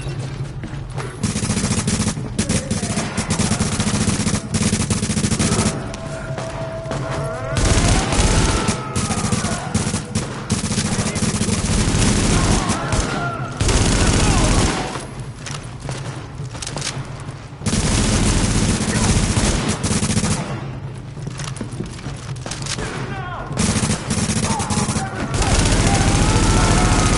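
Heavy gunfire from a rooftop in the video game The Division, dense sustained volleys of rifle fire broken by short lulls, loud and continuous.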